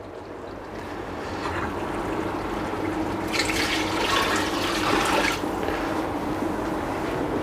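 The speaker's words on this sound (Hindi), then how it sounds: "तो मैं अभी इसमें शामिल करूँगा 2 लीटर पानी" Two litres of water pour into a pot of browned beef and spices for haleem, a steady rushing splash that swells and continues for several seconds at close range.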